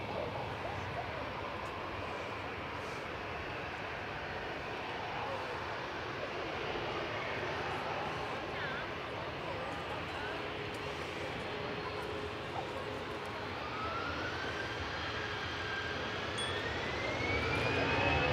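An EasyJet airliner's jet engines rumble and whine at Manchester Airport, a steady, moderately distant roar that slowly builds toward the end, with a faint rising whistle and light background voices.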